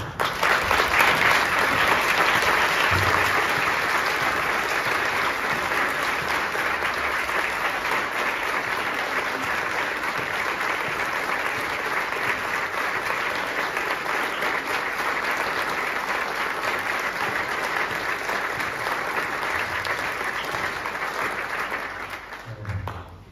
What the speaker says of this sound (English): So let's stand and give Jimmy a round of applause.